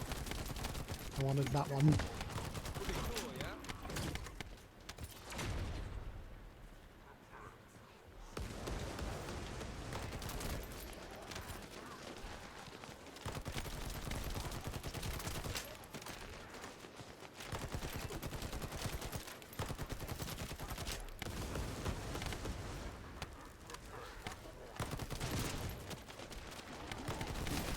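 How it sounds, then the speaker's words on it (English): Loud video game gunfire and bursts of fire run through most of a shooter session, with a short lull partway, while a player talks over the shooting. "Let me shoot you again!"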